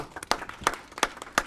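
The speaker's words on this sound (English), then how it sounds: "Round of applause for Dan Barrero." Scattered clapping at a city council meeting, a few distinct sharp claps from a small number of people in a room, irregular and sparse rather than a full ovation.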